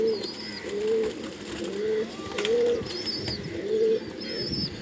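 Sialkoti pigeons at a shop coo in a repeated, steady rhythm of low rolling calls, with higher chirps and tweets over the top and faint background activity.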